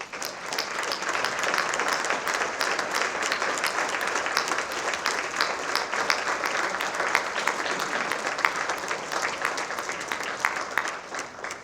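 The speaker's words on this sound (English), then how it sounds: "would you please stand and let us applaud" Seated and standing audience at the McKinney ISD Athletic Hall of Honor ceremony applauds former inductees, a steady, dense wash of clapping that holds at even loudness for the whole stretch without letting up.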